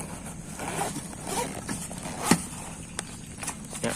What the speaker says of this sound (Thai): ก็จะมีซิปแล้วก็เปิด